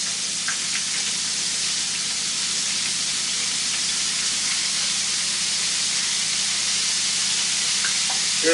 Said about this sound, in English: Hear them sizzling good.